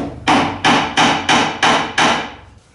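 A hammer taps a wooden form into a sawn notch during a dinghy build: six sharp, evenly spaced, ringing strikes, each decaying quickly, close and loud.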